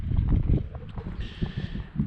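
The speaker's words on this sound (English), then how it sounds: "kind of a blizzard today. Not terrible, but windy and a lot of snow coming down." Wind gusting through a snowy Alaskan blizzard near a remote forestry cabin, a steady low rumbling roar of wind buffeting the microphone, with a faint brief higher rushing layer partway through.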